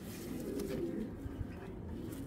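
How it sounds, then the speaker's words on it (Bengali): Two pigeons, including a large hen with a distinctive eye ring and a speckled neck, coo softly and repeatedly at close range against low background noise. "দুইটা কবুতর আপনাদের একটু দেখাই"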